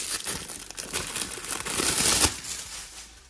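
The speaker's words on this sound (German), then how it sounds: "Wir machen jetzt erstmal hier die Folie weg." Plastic film wrap being peeled and crinkled off a boxed vintage action-figure toy package, a continuous close, loud crackling and rustling with sharp tearing bursts.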